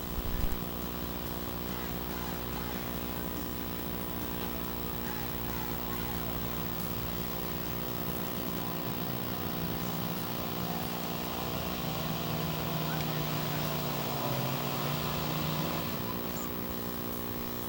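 Work stock diesel tractor pulling at a Mohawk Valley Pro Pullers League tractor pull, a loud, sustained, droning engine roar with a steady harmonic tone, and an announcer's voice under it.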